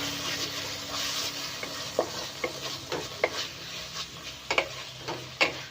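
Noodles being stirred and mixed with a splash of vinegar in a hot pan, a steady frying sizzle broken by a string of sharp utensil scrapes and taps against the pan, close and fairly quiet, with no talking.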